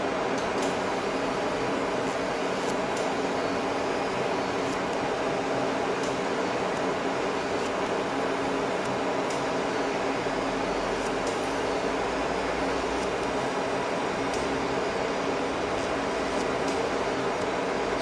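A fiber laser marking machine runs after its foot switch is pressed, giving a steady, even broadband hum with faint high ticks throughout, close and continuous with no talk.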